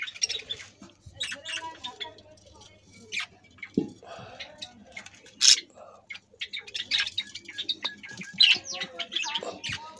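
A colony of budgerigar chicks gives scattered high chirps and squawks close by, with a voice talking quietly among them.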